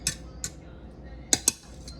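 A utensil clinking against a pot while stirring jambalaya with rice and sausages: four sharp metallic taps in two pairs, close and fairly loud over quiet background.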